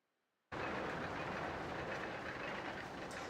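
A roller coaster train runs in RollerCoaster Tycoon Classic, a dense rumbling clatter of wheels on track that starts abruptly and holds steady and loud to the end.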